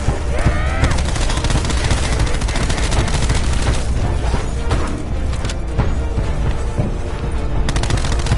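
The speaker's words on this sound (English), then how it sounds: "let me shoot you with this pellet gun" Pellet gun fire in Call of Duty Black Ops 4 zombies, sounding as dense, continuous rapid shots layered with game effects and explosions at steady high loudness throughout, with no gaps.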